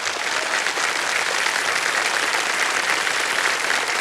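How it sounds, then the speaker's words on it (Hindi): Dense, sustained applause from a studio audience on a Hindi television quiz show, loud and steady throughout with no voices standing out above the clapping. "तालियां बज जाए इनके लिए"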